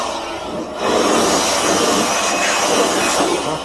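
A steady broadband whoosh of air from an electric fan blowing over a window frame after caulking removal on an exterior wall, starting faint, then swelling loud and continuous after a second.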